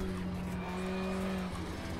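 In the racing game Need for Speed Shift 2, a Lancia Delta HF Integrale Evo with a 2-liter all-wheel-drive turbo engine hums at a steady, fairly quiet pitch for about two seconds, with no voices.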